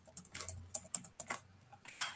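Fingers tapping on a computer keyboard in quick irregular bursts of close, crisp clicks, with no talking.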